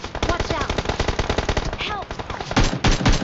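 Rapid automatic gunfire from an AKM rifle in a battle-royale shooter game, dense bursts of shots crackling continuously with faint talk underneath.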